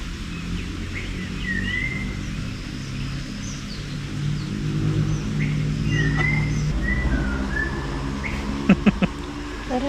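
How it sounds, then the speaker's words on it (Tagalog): Birds call with short whistled chirps over a steady low hum in a forest around a moto-camping site at Kamp Lema, with a few sharper knocks near the end. "Pakinggan niyo yung ibon na humuhuni."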